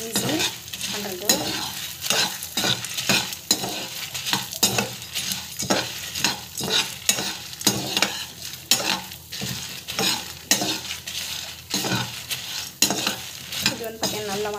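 Ingredients are sautéed in a pan with steady, rhythmic spatula strokes scraping and clanking against the metal over a loud, continuous sizzle, close up and with no talking.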